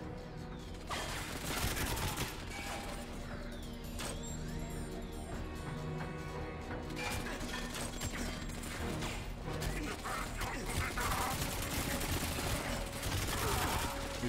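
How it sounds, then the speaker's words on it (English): Enemy gunfire in GoldenEye 007: Reloaded, a dense sustained fusillade of rapid shots and mechanical clatter running almost the whole stretch at steady loudness, with a voice faintly underneath. "They're all shooting at me."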